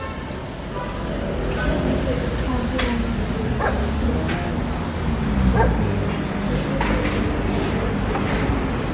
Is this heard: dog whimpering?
yes